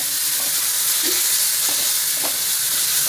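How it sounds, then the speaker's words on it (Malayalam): Onion, green chilli and tomato frying in hot oil with cumin, giving a continuous close sizzle and a few soft stirring scrapes across a short stretch, with no voices. "അതിലേക്ക് നമ്മൾ എണ്ണ ഒഴിച്ചു, ജീരകം ഇട്ടു, സവാള ഇട്ടു, പച്ചമുളക് ഇട്ടു."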